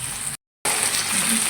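Chicken fries in a pan with browned onions, giving a steady, close hiss of sizzling broken by a short silent gap.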